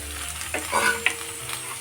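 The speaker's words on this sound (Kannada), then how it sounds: "ನಾನು ಮೀಡಿಯಮ್ ಫ್ಲೇಮಲ್ಲಿ ಫ್ರೈ ಮಾಡ್ಕೊಳ್ತಾ ಇದ್ದೀನಿ ಸ್ವಲ್ಪ ಹೊತ್ತು" Sliced okra and egg frying in a pan over a medium flame, a soft steady sizzle with occasional light stirring scrapes, close by.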